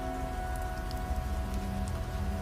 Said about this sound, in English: As the rain collided with old cars, it created the sound of soft metal being tapped to echo across the junkyard